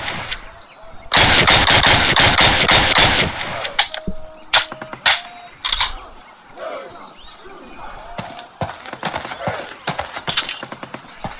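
Rifle gunfire in the Call of Duty video game, with rapid bursts of loud automatic shots followed by scattered single cracks and mechanical clatter, over faint background noise and an intermittent voice.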